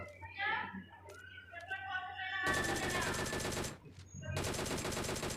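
Mk14 rifle gunfire from a battle-royale video game rattles out in two loud, dense bursts of rapid shots, with someone talking over the game sounds before the shooting starts.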